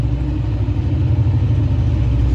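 Engine of a 2022 Honda 125 motorcycle running steadily at idle just before switch-off, a continuous low rumble close by with no talk over it.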